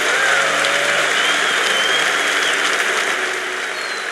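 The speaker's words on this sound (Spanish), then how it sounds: "Más fuerte ese aplauso a Jesús." A congregation at a church conference keeps up sustained, dense applause for Jesus, the clapping loud and even before easing slightly near the end.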